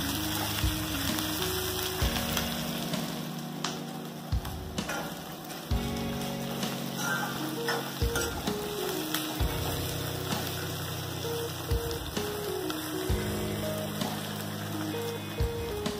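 Onions sizzle steadily in a pan while cooking for a pumpkin sabzi, a continuous crackling hiss with faint clinks and stirring scrapes throughout.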